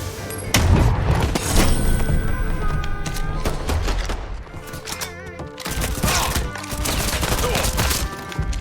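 Loud, dense gunfire from Mafia 3: Definitive Edition fills the clip, with rapid overlapping shots and heavy booms firing almost continuously, briefly easing in the middle before another volley.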